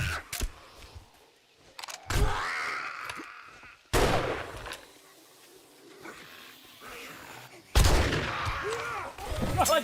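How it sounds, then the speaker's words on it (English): Shotgun blasts in 7 Days to Die: a few heavy, booming shots spaced seconds apart, each followed by a ringing decay, with faint clatter and groans between them. "Alright, time to use some of the shotgun up."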